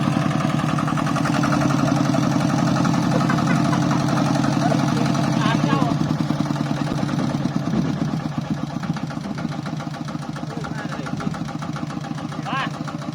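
A stuck tractor engine idles in a steady, close, low-pitched drone that continues without a break while people talk over it.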